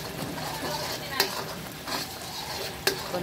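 Thick biko, a sticky rice cake, bubbles and sizzles in a pan while a spoon stirs it in slow, soft scraping strokes, with two sharp utensil knocks against the pan.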